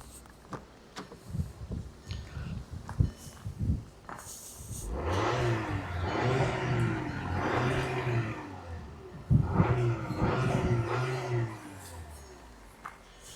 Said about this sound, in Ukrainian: Зараз ми погазуємо, подивитись на вихлопну.